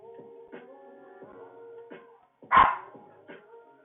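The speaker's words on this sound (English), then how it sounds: "Quiet, dogs." A dog barks several times in short, spaced yips and whimpers, followed by one loud, sharp bark close by, with no talk over it.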